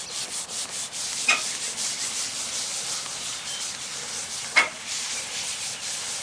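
Old dried sign glue is scrubbed off a truck by hand with hard pressure, a close, steady rasping rub in continuous strokes, broken by two sharper scraping bursts.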